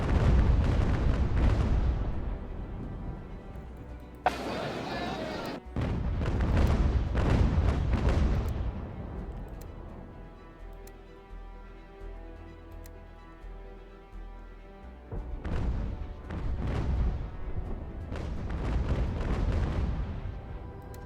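Cannon fire from sailing warships in the naval battle game UGAR, British campaign. Several loud booming blasts land around the start and again near the end, with quieter rumbling and ticking game noise between them and no talk.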